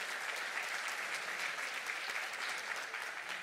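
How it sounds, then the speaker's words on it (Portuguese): Steady applause from a church audience, dense clapping held at an even level for the full length with no voices on top. "Pode aplaudir."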